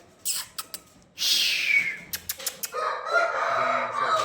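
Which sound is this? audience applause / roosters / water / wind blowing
roosters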